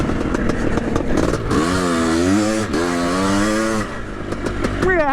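A 1982 Husqvarna CR500 dirt bike with a 1985 500cc two-stroke automatic engine ridden on a stubble-filled circuit, loud and close, its buzzing exhaust rising and falling in repeated revving sweeps with a clattering edge.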